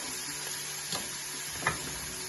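Green chilies fry for jeera rice, a steady close sizzle with a couple of stirring scrapes rising briefly above the constant hiss.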